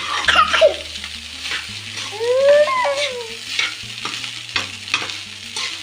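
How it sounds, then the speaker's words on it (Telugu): Egg rice fries and sizzles in a pan while a spoon stirs it in repeated scraping strokes; a dog howls briefly in the background partway through. "ఒక 5 మినిట్స్ అట్లా కలుపుకొనేసి"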